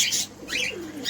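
Birds calling from a pet-bird shop with double king pigeons, short chirpy calls and a soft low coo, close and moderately loud over about a second.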